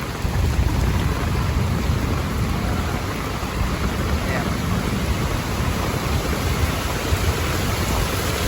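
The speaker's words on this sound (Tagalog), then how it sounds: "Uy, lumakas na naman yung ulan." Heavy rain pours during Typhoon Carina, a dense, steady roar of downpour close by that holds loud and unbroken throughout.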